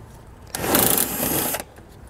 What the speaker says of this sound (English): we'll remove with a T25 Torx bit